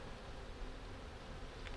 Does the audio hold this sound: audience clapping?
no